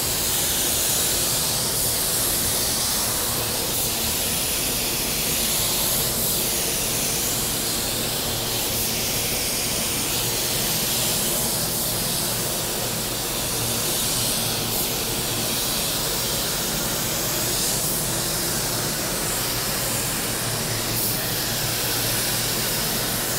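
A budget spray gun lays a medium-wet coat of black metallic paint onto car panels, giving a loud, continuous airy hiss that holds steady for the whole stretch with slight pulsing.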